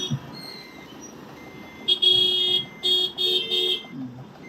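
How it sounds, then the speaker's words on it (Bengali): A car horn honks in traffic: several short, loud blasts come in quick succession over a low background hum. "হর্ন বাজাতে খুব ভালো লাগে নাকি?"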